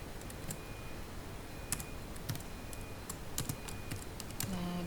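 QBasic code being entered on a computer keyboard, with close, irregular key clicks in short bursts and a few sharper taps, quiet room with no talking.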